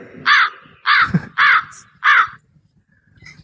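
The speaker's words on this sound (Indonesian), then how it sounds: "Kenapa Anda membunyikan suara gagak?" A crow gives four loud, harsh caws in a steady rhythm, close by, followed by quiet background.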